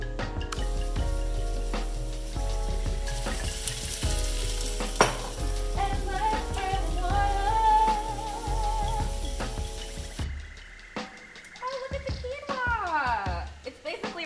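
Collard greens sizzle and fry in a pot, topped with smoked paprika, liquid smoke and apple cider vinegar for vegan Southern black-eyed peas and collards, a steady close crackle with stirring and clanks, and a voice talking over it.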